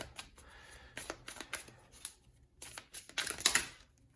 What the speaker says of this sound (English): we're going to shuffle some more for the teacher